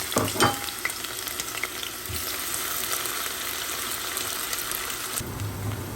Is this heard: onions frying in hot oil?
yes